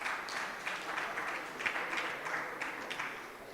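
Audience applauding Ghanaian architects at a World Architecture Day ceremony, steady dense clapping that fills the room without letting up.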